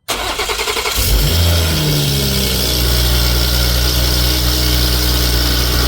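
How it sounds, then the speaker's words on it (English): A BMW engine in a garage cranks briefly, catches, and settles into a loud, steady idle with a low rumble. "start the car"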